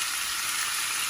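Beef pieces browning in a hot pan give off a steady, close sizzling hiss that carries on unbroken and unstirred for about a second.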